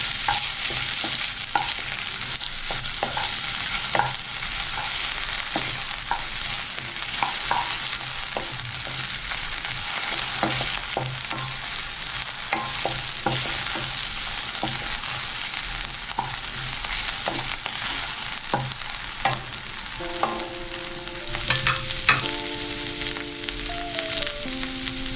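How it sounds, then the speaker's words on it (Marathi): Diced potatoes fry in oil over a low flame for sabudana khichdi, a steady close sizzle with frequent spatula scrapes and stirs, and a few clinks near the end. "नंतर लगेच बटाटा. याला साधारण 1 ते 2 मिनटं याला छान हलक्या फ्लेमवर होऊ द्यावं."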